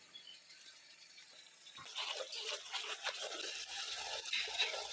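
Water is poured for a homemade sharbat drink, starting as a quiet trickle and then becoming a louder, steady splashing stream that lasts to the end.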